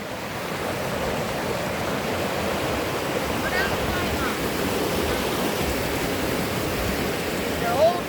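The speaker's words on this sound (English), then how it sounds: "Wow, look at that waterfall." A waterfall along a nature walking trail rushes in a steady, even roar that holds unbroken throughout with no talking over it.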